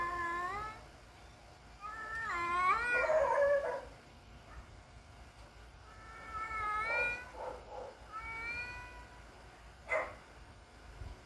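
A cat in heat yowls in long, wavering, drawn-out cries, several calls in a row with pauses between, fairly close and loud.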